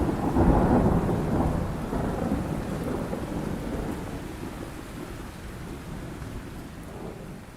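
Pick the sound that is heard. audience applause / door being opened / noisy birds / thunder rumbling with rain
thunder rumbling with rain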